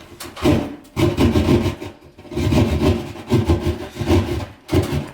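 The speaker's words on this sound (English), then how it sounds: "I have to enlarge the hole and make it a square so that this thing fits up in there." Handsaw cutting to enlarge a ceiling hole for a bathroom exhaust fan, with loud, close, rhythmic rasping strokes in uneven bursts and short pauses between them.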